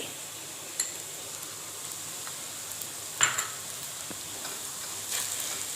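Chili and black pepper powders roast in a pan for a Kerala-style mutton dish, making a faint, steady sizzle with a few soft scraping stirs and small ticks.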